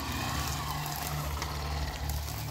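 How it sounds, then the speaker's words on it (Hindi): A motorcycle engine runs steadily with a low, continuous hum as the rider turns the bike around on a rural track near Saharanpur, close and fairly loud, with no talking. "अब हम बाइक मोड़ रहे हैं"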